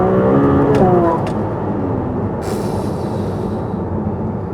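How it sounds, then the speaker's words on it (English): A Ferrari 296 GTB's V6 rises in pitch, then drops through rapid downshifts with a couple of short sharp crackles, leaving a steady road rumble and wind noise from inside the moving car. "This gearbox as well, listen to it, super fast down changes."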